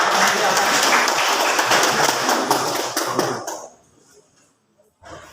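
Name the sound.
applause for the debate team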